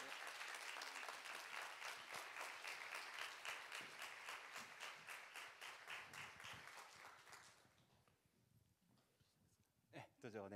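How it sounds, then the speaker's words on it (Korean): A church congregation at a New Year prayer meeting claps in steady rhythmic unison to welcome visiting missionaries, loud and sustained for several seconds before fading, followed by quieter room sounds and a brief bump near the end. "네, 박수로 환영합니다."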